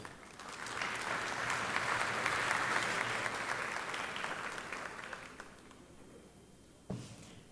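An auditorium audience applauds at a conference, a full sustained burst of clapping that fades out after several seconds, followed by a single thump.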